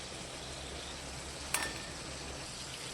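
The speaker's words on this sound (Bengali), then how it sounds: "একটু মশলাটা কষানো হয়ে যাক, তারপর আমি জল দিয়ে দেবো মাছের ঝোলে" Masala spices fry in a pan for a fish curry, a steady soft sizzle throughout, broken by one brief clatter of a utensil against the pan.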